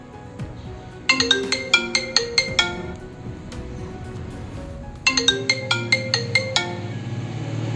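An iPhone 12 ringtone plays loudly through its small speaker, two bursts of quick bright repeated chiming notes separated by a short pause.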